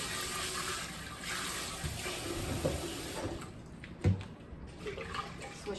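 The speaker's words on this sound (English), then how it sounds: "Little cooler temperature water, and just give this a rinse." Tap water runs into a sink to rinse a Megahome countertop water distiller pot, a steady splashing rush with a sloshing burst near the end.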